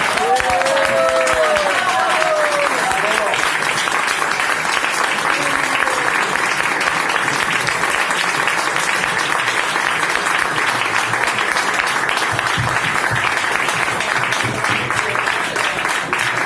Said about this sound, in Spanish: Bueno, fuerte aplauso para mí.